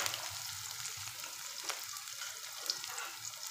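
Onions frying in oil with mustard seeds and green chillies for a dal hari mirch fry, a steady close sizzle with bright crackle and occasional sharper pops, no talking.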